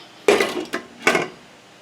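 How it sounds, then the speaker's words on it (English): A lid is set onto a cooking pot of kale greens with smoked turkey: three close metallic clanks, one sharp and two softer, with quiet in between and no talking. "I'm going to put the top on this and let this cook down some"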